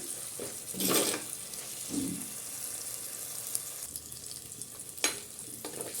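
Green chillies and onions sauté for a fish curry with a faint, steady frying hiss, broken by a few louder bursts of sizzling and a sharp clatter near the end.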